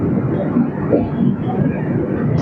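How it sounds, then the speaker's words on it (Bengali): Kolkata–Jammu Tawi Express racing along at high speed, a steady dense rumble and rattle of the carriages with no break, heard close from on board. "দুরন্ত গতিতে ছুটে চলেছে আমাদের এই কলকাতা জম্মু-তাওয়াই এক্সপ্রেস।"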